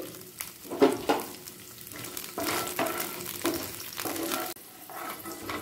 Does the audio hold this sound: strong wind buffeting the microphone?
no